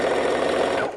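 A sewing machine stitches a quilt block onto a sweatshirt, a fast, close mechanical whirr that runs for about a second and then winds down.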